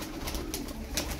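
Tumbler pigeons coo in soft repeated calls over a steady low hum, fairly close, with no one speaking.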